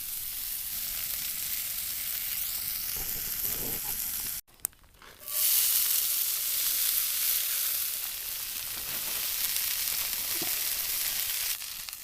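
Food sizzles and fries steadily over campfire coals outdoors, a continuous bright hiss that briefly cuts out, then swells louder as it carries on.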